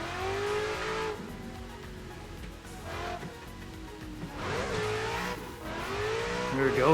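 A BMW drifting in the Assetto Corsa racing game, its engine revving and dropping while tires squeal through slides. The sound is loud and continuous, with pitch sweeping up and down.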